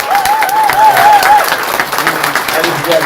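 Party members at a meeting in Gunsan applaud, a steady, loud wash of clapping that fills the room while voices call out and chatter underneath.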